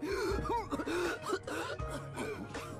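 An anime character coughs and gasps in a few rough, throaty bursts, close and fairly loud, with strained vocal sounds around them.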